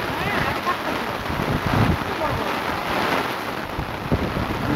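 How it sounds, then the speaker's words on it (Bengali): Heavy pouring rain lashes a rooftop garden in Dhaka, a dense steady roar with gusty wind rumbles and buffeting on the microphone, loud and continuous throughout. "প্রচুর বৃষ্টি মুসলধারে বৃষ্টি"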